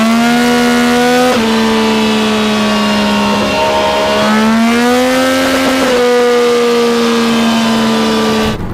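A Yamaha R9 motorcycle engine held at full throttle on the Sport map, screaming loud and close with a sustained, shifting high-revving tone that holds for several seconds before tailing off.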